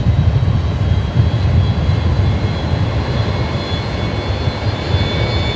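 A Fokker aircraft's engine runs through startup at Brisbane Airport, a loud, steady low rumble with a faint high whine above it and no voices.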